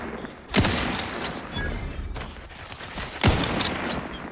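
Gunfire in the sci-fi role-playing game The Outer Worlds 2: two sharp, loud shots about three seconds apart, each with a booming tail, over a rushing background of combat noise.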